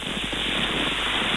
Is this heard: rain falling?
yes